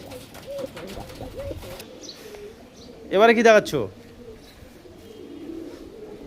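Young Rajasthani Kalchira pigeons coo softly while people talk close by, with a louder burst of calls partway through.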